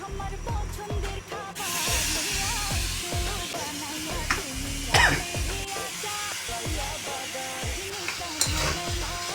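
Fish cooking with teasel gourd (kakrol) in a pan, with a steady sizzle under repeated rhythmic scraping strokes of a spoon stirring the spiced mixture, close and moderately loud.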